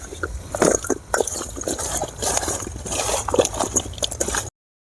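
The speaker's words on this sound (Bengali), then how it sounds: "ঝুরি আলু ভাজাটা ভাজা হয়ে গেলে এই আলুগুলো ভেজে নেব এই তেলে" Potatoes frying in oil in a home kitchen, with bubbling, spluttering and scraping sounds that rise and fall in close irregular bursts, then the sound cuts off abruptly just before the end.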